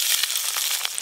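Crab from the Sundarbans fries in a generous amount of oil, giving a steady, close, crackling sizzle throughout with no pause.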